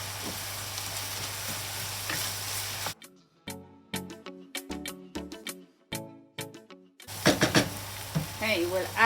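Tomatoes and grated carrots sizzle with beef in a pan, an even frying hiss at first, then a run of sharp utensil scrapes and clacks against the pan, before a loud burst of sizzling returns; no one speaks.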